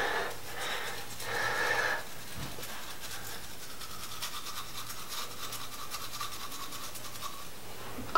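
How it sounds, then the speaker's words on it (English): A toothbrush scrubs teeth without toothpaste in short bursts of close, rough brushing, followed by a longer stretch of steady scrubbing. "Gotta go brush my teeth, get ready for the day."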